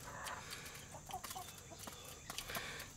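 Small hens clucking softly in short, scattered bursts, faint and close against a quiet farmyard background.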